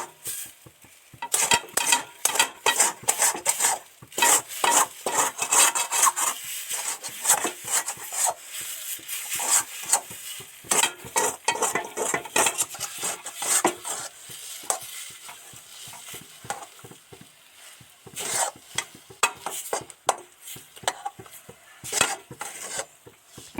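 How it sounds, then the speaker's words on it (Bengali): Masoor dal batter being stirred in a kadai gives repeated scraping and knocking strokes of a spoon against the pan over a soft sizzle, in irregular bursts that pause briefly now and then. "দিয়ে এবার সুন্দর করে কড়াতে নাড়তে থাকবো"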